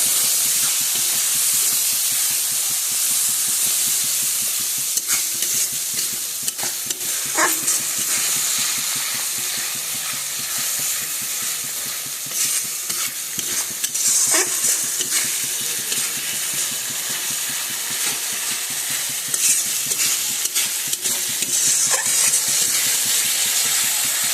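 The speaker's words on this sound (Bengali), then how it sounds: "মশলাটা ভাজা হয়ে গেছে" Spice paste with chilli powder and turmeric frying in oil in a pan, a steady hissing sizzle close up with periodic scrapes and taps of stirring, no talk.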